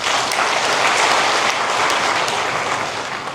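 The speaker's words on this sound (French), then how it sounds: "Il mérite un tonnerre d'applaudissements." Loud, dense applause from an audience in a hall, a continuous wash of many hands clapping at once that holds steady throughout and fades slightly at the end.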